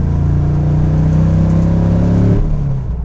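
A BN Sports Mazda RX-7 with a swapped LS3 V8 revs loud and close, a deep steady engine note that climbs slightly before dropping off sharply as the throttle is released.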